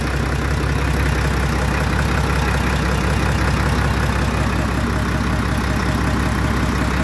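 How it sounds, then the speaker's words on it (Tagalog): A 6HL1 diesel engine with an overheating and low-power issue idles with a steady, even, close-up rumble that runs unbroken the whole time. "tunog na lang yung kanyang makina."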